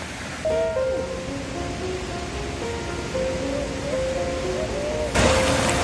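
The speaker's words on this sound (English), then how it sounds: "It's a little stream there." A small stream runs along a hiking path by Grasmere in the Lake District, heard as a steady close wash of water, with a few faint bird calls over it.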